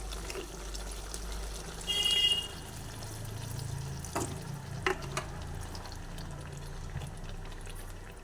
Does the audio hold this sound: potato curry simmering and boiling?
yes